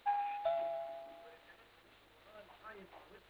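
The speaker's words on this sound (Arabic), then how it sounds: "انتوا ايه مش سامعين الجرس؟" Doorbell chiming twice near the start, a bright tonal ring followed by a second strike, then fading as people talk in a domestic room.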